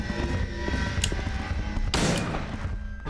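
A sharp burst of gunfire cracks out amid a dense, rumbling Silent Hill 2 game soundscape, with a smaller pop just before it.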